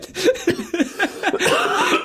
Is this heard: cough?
yes